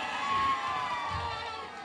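A crowd at a BRS party political gathering cheers and shouts in welcome, a brief, dense burst of voices from a large group.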